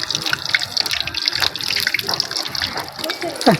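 Oil sizzles and crackles steadily in a pan while frying coriander-leaf and pumpkin fritters, a constant hiss dotted with sharp pops, with a faint voice in the background.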